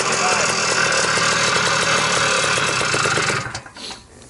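A 1971 Greeves Puch 169cc Pathfinder trail bike with its original stock exhaust runs steadily at a loud, close idle, then drops away sharply near the end.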